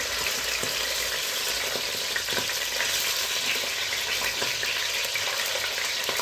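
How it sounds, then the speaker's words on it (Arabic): Small chicken pieces fry in well-heated oil or ghee, giving a dense, steady sizzle with crackles and pops throughout, fairly quiet and with no talk. "هنبدا ننزل بقطع الفراخ زي ما انتم شايفين كده اهي"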